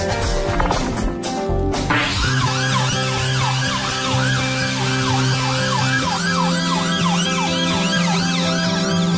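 An ambulance siren wails loudly and steadily in a repeating rising-and-falling pattern after a few sharp clanks at the start, with traffic rumbling underneath.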